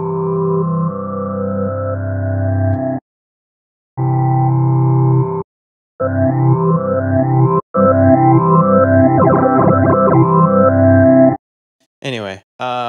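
Harmor synth playing a rhythmic phaser pad with a going-backwards effect: bright sweeping chords in choppy bursts separated by abrupt silences, swirling phased sweeps in the middle and a short glitchy tail at the end.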